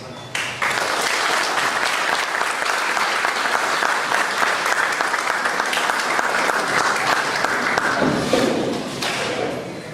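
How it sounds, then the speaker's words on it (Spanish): Strong audience applause after a law lecture on procedural principles at a bar association event, starting abruptly, holding steady and full, then tapering near the end, with occasional thumps. "Brindemos un fuerte aplauso"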